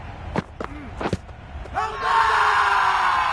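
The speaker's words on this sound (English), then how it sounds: "the crowd have joined the party. It's pretty noisy in the ground." A cricket stadium crowd in the video game Cricket 22 erupts: a few sharp shouts come first, then a loud, sustained roar of cheering swells and holds to the end.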